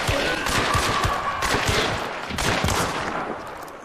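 Rapid bursts of gunfire from the video game Hunt: Showdown crackle almost continuously, dense overlapping shots loud and close with a brief lull midway.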